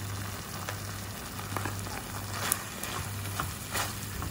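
Chili-spiced seblak filling for cireng fries in a pan, cooked until dry, giving a steady close sizzle with small spattering pops and a low background hum, and no talking.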